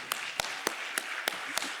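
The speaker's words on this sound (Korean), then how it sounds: "하나님께 영광의 박수를" A church congregation claps in unison, six evenly spaced loud claps over a steady crowd murmur.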